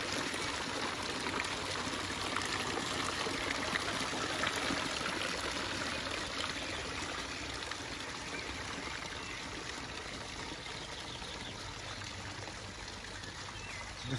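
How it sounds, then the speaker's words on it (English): Water from a two-tier garden fountain with lion-head spouts and a large collecting pond in a backyard flows and splashes in a steady, continuous wash that holds at an even level throughout, with no voices. "So the fountain is in the backyard. We can hear the sound from the bedroom window."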